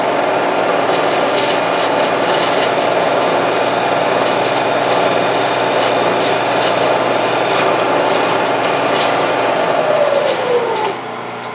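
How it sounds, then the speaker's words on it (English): A power drill whines steadily and loudly for about eleven seconds while boring a hole for a flask alignment pin, its pitch sagging near the end as it winds down. "So, all right, we're going to drill this out."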